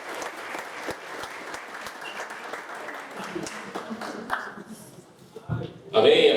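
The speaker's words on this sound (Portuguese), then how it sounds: "Você pode aplaudir o Senhor bem forte?" A church congregation at a conference in Japan claps in sustained applause, a dense patter of many hands that thins toward the end before a loud voice breaks in.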